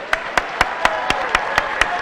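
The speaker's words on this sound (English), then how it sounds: "Please give them all a round of applause." An audience at a senior awards night claps in a slow, even rhythm, roughly four sharp claps a second, moderately loud and close, with faint talk underneath.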